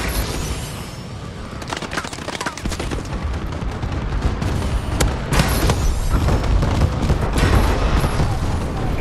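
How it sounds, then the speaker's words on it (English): Rapid bursts of gunfire and booming explosions from a bombing run in Call of Duty Advanced Warfare team deathmatch, dense and loud, continuing without pause throughout. "bombing run clearing the way"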